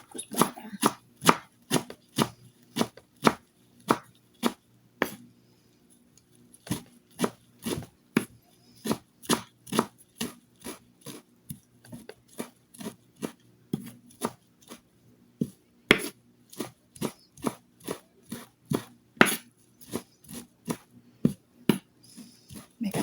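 A knife chops fresh parsley and coriander on a board in quick, regular crisp strikes, close and clear, with a short pause early on before the steady rhythm resumes.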